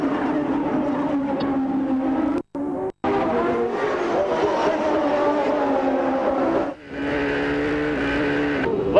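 IndyCar race cars roar down the long back straight side by side, a loud continuous engine howl with shifting pitch broken by brief gaps.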